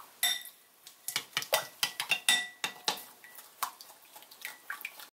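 A metal spoon stirs roasted gram flour into melted ghee for Mysore pak, a close run of irregular clinks and scrapes against the pan, quieter toward the end.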